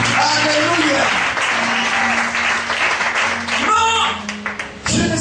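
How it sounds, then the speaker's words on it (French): A church congregation cheers and applauds during a sermon, a loud, dense wash of clapping mixed with shouting voices, while a preacher speaks over it throughout. "je vais entendre les acclamations ce matin"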